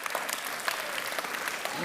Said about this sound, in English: You can go ahead and cheer for that.